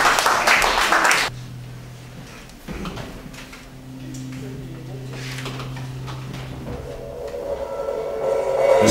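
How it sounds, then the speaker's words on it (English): Loud applause from an audience at a live performance, dense and broadband for about a second before cutting off abruptly and giving way to a quiet sustained drone. "Big round of applause."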